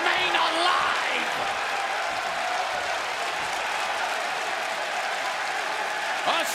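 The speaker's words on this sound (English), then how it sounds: "A standing ovation from this raucous crowd in Phoenix." Loud, sustained applause and cheering from a packed wrestling arena crowd in Phoenix giving a standing ovation, a steady roar of clapping and shouts filling the whole stretch.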